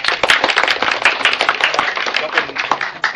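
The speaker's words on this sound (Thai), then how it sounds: "ต้องขอปรบมือให้แม่ครัว" A small group claps for the cook after a meal, a close, quick and uneven burst of hand claps that holds steady for a few seconds.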